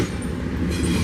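A freight train rolls past close by as a mid-train distributed power locomotive comes through, a loud steady rumble with metallic rail noise and no talk.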